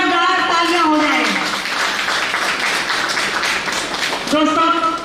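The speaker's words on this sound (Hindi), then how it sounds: "तो एक बार अभिषेक सिंघल जी के लिए जोरदार तालियां हो जाए।" An audience at a spiritual talk applauds, a crowd's clapping rising between stretches of a voice speaking at the start and end, loud and fairly close.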